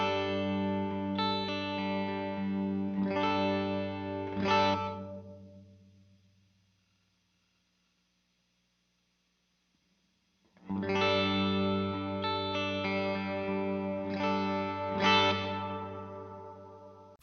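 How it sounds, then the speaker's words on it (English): Electric guitar chords ring out through a reverb pedal set with a long decay, strummed in bursts that swell and trail off into a lingering tail, then silence before the chords return, clean and sustained. "The decay determines how long you want the reverb to go on for."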